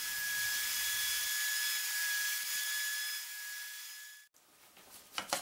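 Power saw cutting wood pieces set against a stop for batch cuts, a bright sustained whine that drops out abruptly near the end, followed by a few brief knocks and rustles; no talking.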